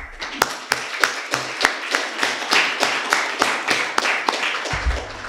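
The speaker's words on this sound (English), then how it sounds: "it would be befitting if we all give a big round of applause" Audience applause at an inaugural ceremony for a UNESCO Chair in Vulnerability Studies: a steady run of sharp, fairly close claps from a modest group, lasting about five seconds with no talking over it.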